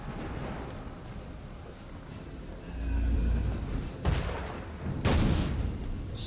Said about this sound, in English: The sailors are being shot!